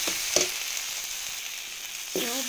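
Ground poppy seed paste frying and being stirred in a pan with tomato for Bengali shukto, a steady close hiss of sizzling with a couple of brief scraping stirs, no talk.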